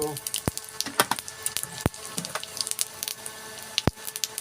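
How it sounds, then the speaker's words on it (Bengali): Cumin seeds hitting hot oil in a home kitchen give off a string of sharp, scattered crackles and pops over a light sizzle, close and fairly loud. "একটু তেল দিব, একটু জিরা দিব"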